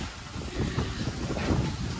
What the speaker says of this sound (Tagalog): Grabe hangin dito guys. Lakas ng hangin.